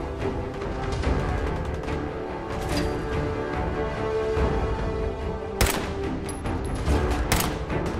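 Gunfire in Fallout 4 comes as repeated sharp shots and thuds, some in quick bursts, loud and scattered over a rumbling game soundscape.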